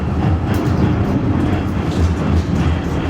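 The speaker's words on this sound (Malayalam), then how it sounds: "എതിർദിശയിൽ ഒരു ട്രാം വരുന്നുണ്ട്." A loud, steady rumble of a tram rolling close by in Norway, with a faint clatter over the continuous roar.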